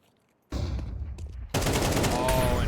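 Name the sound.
gunfire spamming in a Counter-Strike video game match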